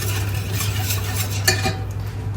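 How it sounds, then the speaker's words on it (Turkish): A spoon stirs milk pudding in a pot on the stove, giving soft, continuous scraping and swishing over a steady low hum, with one slightly louder scrape midway. "hiç durmadan karıştırdım ve kıvamı böyle bu şekilde oldu"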